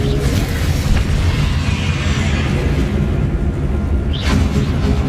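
Bombarda or Confringo spell explosions in Hogwarts Legacy, a continuous loud rumbling boom with deep low-end weight, swelling again near the end as another blast lands.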